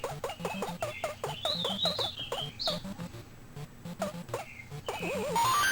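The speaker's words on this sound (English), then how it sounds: "I do enjoy hearing the birds chirping in the background." Birds chirp through the background of a Donkey Kong Remix level, their short repeated calls riding over a rhythmic, pulsing music track at moderate volume.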